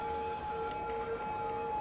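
A police car siren wails in Cities: Skylines, a steady two-tone electronic whine alternating at a moderate pace over a low continuous city hum, faint and unbroken throughout.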